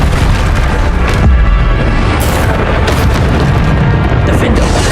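Bombarda spell explosions in the Hogwarts Legacy video game: loud, heavy booms and bursts, one after another, in a dense, continuous din of spell combat.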